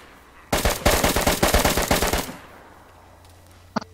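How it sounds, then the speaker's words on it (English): A rapid string of about fifteen gunshots in DayZ rattles off at a fairly close range in a steady burst lasting under two seconds, followed by quiet and one faint single shot near the end. "Someone else is shooting?"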